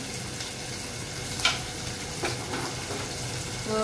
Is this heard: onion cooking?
yes